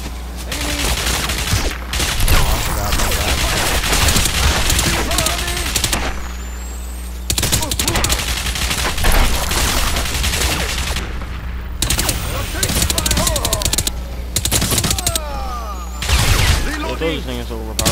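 Rapid gunfire from an overpowered favourite gun in Crysis, long loud bursts broken by brief pauses, with a player talking over the shooting.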